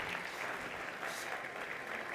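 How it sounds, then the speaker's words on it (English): An audience at a startup competition on a tech summit's stage applauds, a fairly soft but sustained wash of many hands clapping that rises slightly midway and carries on without pause. "Okay, big applause."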